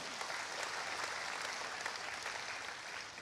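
Steady applause from a church congregation during a service, many hands clapping together in an even, moderately loud burst that lasts throughout.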